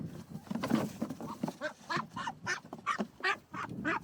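Several ducks on a farm quack in a loose, irregular run of nasal calls, fairly close, with faint human voices mixed in underneath.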